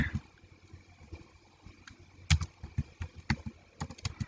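Typing on a computer keyboard while entering data into accounting software: a quiet run of soft key clicks, irregular at first, then a brisker cluster of sharper taps.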